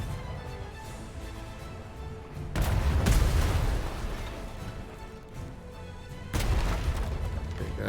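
Galleon cannons in ATLAS fire in two heavy, booming volleys. Each volley rumbles and decays over a few seconds against low ambient noise.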